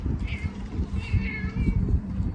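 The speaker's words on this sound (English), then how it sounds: "That was my cat." A house cat meows twice indoors, short rising calls standing out clearly over a steady low room rumble, with no talking.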